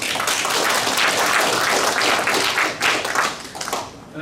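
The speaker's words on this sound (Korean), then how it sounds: "다시 한번 큰 박수 한번 쳐주시죠" Audience applause at a Korean commemorative ceremony and academic seminar honoring independence activist Choi Jae-hyung, a dense wash of many hands clapping close by, steady and full before thinning slightly toward the end.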